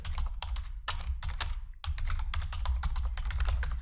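Rapid typing on a computer keyboard while entering data into an Excel spreadsheet, with dense, fast clicking keystrokes, close and steady, and one short pause partway through.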